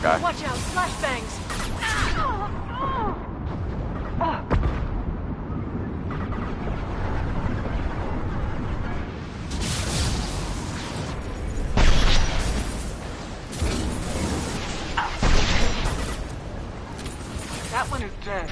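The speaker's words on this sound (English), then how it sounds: "Watch out, flashbangs." Flashbang grenades go off in a Mass Effect 2 firefight, a few sharp bursts spread through the stretch, with a person talking over much of the action.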